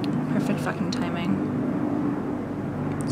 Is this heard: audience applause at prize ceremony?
no